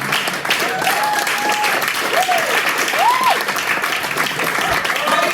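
A stand-up comedy audience claps in a sustained, dense wave of applause while the comedian speaks over it.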